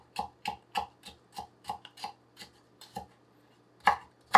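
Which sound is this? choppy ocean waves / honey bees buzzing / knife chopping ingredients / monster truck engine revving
knife chopping ingredients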